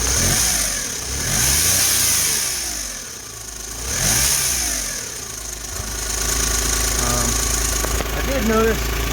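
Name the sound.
turbocharged Geo Metro engine running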